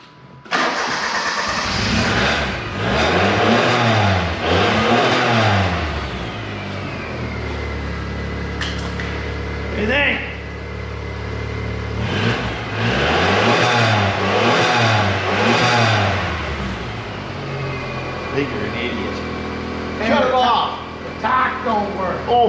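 A Firefly car engine cranks, catches and revs repeatedly in rising and falling surges, loud and close, then settles toward idle before revving again, with people talking around it.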